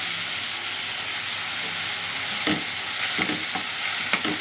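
Brinjal pieces stirred and fried in a pan for a dried fish, tomato and cucumber curry, giving a steady close sizzle with occasional scraping stir strokes near the end, without talk.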